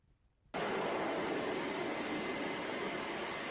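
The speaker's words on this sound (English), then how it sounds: "So that's them launching airplanes." A jet aircraft launched by an aircraft carrier catapult sets off a sudden, loud, sustained roar that starts abruptly after a short quiet moment and stays steady and broad.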